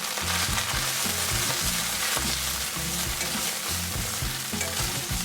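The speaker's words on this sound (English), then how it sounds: "I'm just going to stir fry that" Lemongrass, shallots and garlic stir-fry in hot duck fat, a dense loud sizzle running without pause, with rhythmic scraping and clattering of the pan and utensil underneath.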